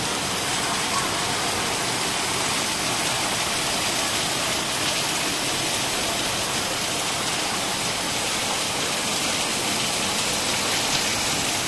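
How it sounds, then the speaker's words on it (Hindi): Heavy rain pours down in a steady, dense hiss, unbroken throughout with no voices. "बारिश चालू है, देखिए"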